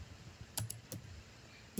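A few quiet taps on a computer keyboard while writing a program, ending in a single keystroke as enter is pressed, faint and close against light background hiss, no talking.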